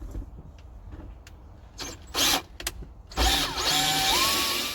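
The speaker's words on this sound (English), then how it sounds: "and drill into the holes." A power drill with a 25/64 inch bit drills holes, whirring in a few short bursts, then running in a longer loud whine with rising pitch, close by and without talk.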